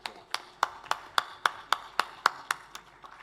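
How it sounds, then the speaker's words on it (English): Evenly spaced, crisp claps at an investment and capital markets conference, about a dozen in a steady slow rhythm, close and distinct with brief gaps between them. "Let's give a round of applause to Michelle."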